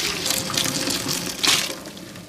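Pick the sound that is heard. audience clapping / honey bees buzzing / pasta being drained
pasta being drained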